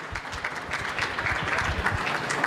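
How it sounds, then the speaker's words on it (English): Audience applause at a university innovation challenge event for a jazz trio, a full, continuous crowd clapping that stays steady and fairly loud for the whole stretch. "Big round of applause once more for our jazz trio."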